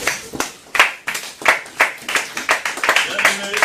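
A church congregation claps together during a Sunday service, a steady run of sharp, fairly close claps with a loose rhythm that grows denser and livelier toward the end.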